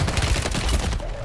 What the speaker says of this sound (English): I'm getting shot by two dudes right now